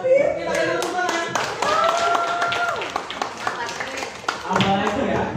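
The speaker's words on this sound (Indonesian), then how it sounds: "Kita kasih tepuk tangan." A group claps hands at a community learning center event, scattered sharp claps and taps mixed with people talking and laughing, at moderate level.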